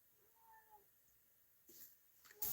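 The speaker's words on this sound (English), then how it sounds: "My cat's here to say good morning to you guys." A domestic cat gives a soft, faint meow in a quiet room early on, followed by some rustling and a louder handling noise near the end.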